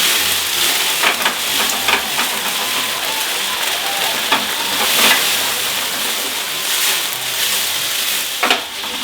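Food sizzling loudly in a hot pan after a splash of cognac, a dense continuous crackle with scattered sharper pops as the pieces are turned over, close and alone.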